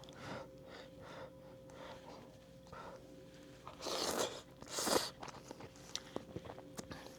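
Someone eats spicy Saudi and Korean chicken noodles up close, with quiet rustling and mouth sounds followed by two loud, breathy slurps in quick succession, then small clicks and chewing noises.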